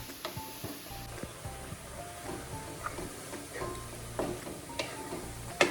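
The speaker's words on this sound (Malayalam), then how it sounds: "എനിക്ക് ഇളക്കാനുള്ള ജോലി തന്നിരിക്കുകയാണ്." Onion and green chilli mixture being stirred in a pan, with soft scraping and light sizzling in an uneven rhythm and faint clicks throughout, close by at low volume.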